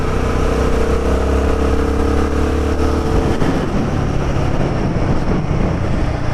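A Royal Enfield Guerrilla 450 motorcycle is ridden, its engine a loud, steady drone with wind rush, shifting pitch midway as the rider changes speed, no talk.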